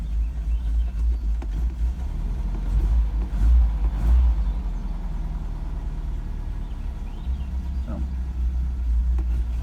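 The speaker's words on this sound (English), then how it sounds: "decrease the idle. Now it's letting it get warmed up." A Mercedes 190SL engine idles while warming up, a steady, deep, low rumble that stays close and constant throughout with slight swells, while someone talks briefly over it.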